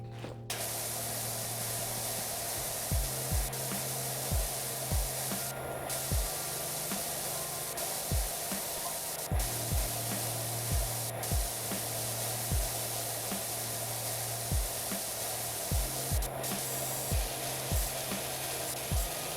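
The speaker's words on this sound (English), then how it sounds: "So we'll get this front sprayed off as well" A pressure washer in PowerWash Simulator 2 blasts grime off the front of a building, making a steady loud hiss of spray broken by a regular pattern of low thuds.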